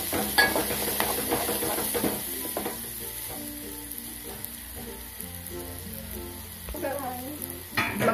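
Onions and curry leaves fry in a pan for Telangana-style moong dal with tamarind leaves, a crackling sizzle under scraping stirs and clinks of a utensil against the pan, with faint voices in the background.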